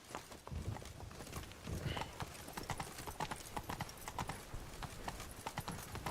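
Hooves clip-clop steadily from a horse being ridden in a video game, a quick, even rhythm of close, dry clops that runs the whole time, with faint background murmur underneath.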